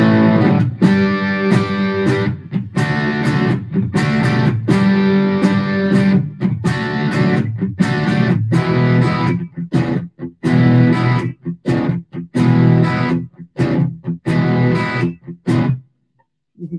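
A Gibson ES-175 style hollow-body electric guitar played with a meaty, overdriven rock tone, loud chords and riffs in rhythmic bursts with short gaps, heard alone in a music shop, ending in a brief silence.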